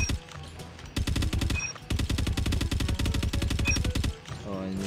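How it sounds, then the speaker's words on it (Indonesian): Rapid automatic KILO-141 gunfire in a first-person shooter video game rattles out in loud, tightly spaced shots, one short burst and then a longer sustained string, close and dominant. "Senjatanya di adjust."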